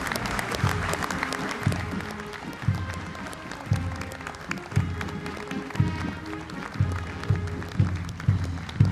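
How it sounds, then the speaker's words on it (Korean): A large audience applauds parading cadets and troops at the 64th Armed Forces Day ceremony at Gyeryongdae, a broad, steady wash of clapping with rhythmic low thumps running underneath. "국군 장병들에게 뜨거운 격려의 박수 부탁드립니다"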